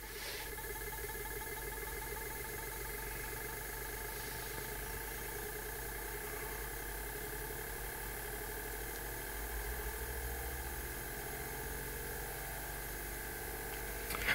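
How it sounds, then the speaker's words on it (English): A homemade pulse motor runs with a steady electrical whirring hum and layered tonal buzz. The sound holds constant and close throughout, with no talking. "So if I just give this a bit of a spin now and then switch it on."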